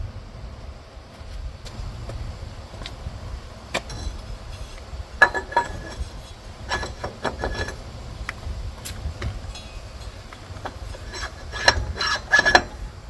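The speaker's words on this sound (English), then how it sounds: "let's put the pulley in place and see if the pulley slides in place without actually hitting it" Metal parts clinking and tapping quietly as a pulley is slid into place on a Husqvarna mower, with scattered light knocks over a low hum and no talking.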